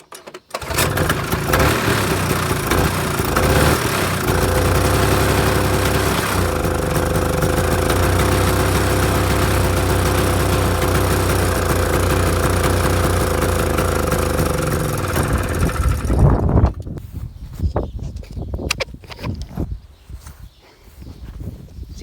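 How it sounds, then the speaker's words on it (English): A vintage 1971 AMF Ski Daddler Mark IV snowmobile from a junkyard, its engine fed from an auxiliary fuel tank with a badly leaking carburetor, runs loud and steady for about sixteen seconds, then cuts out, leaving faint clatter. "see if I can get it to actually run on its own power"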